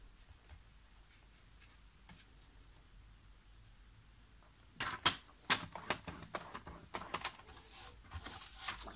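Paper being folded and creased for a handmade scrapbook album: quiet near the start, then a run of crisp scratchy rubs and taps as the folds are pressed down, close and fairly soft.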